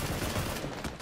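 Gunfire in PUBG, a dense burst of shotgun-style blasts filling the whole second, loud and close with no talking over it.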